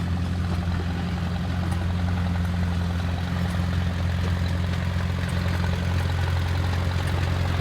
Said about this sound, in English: It's good to see these tractors out running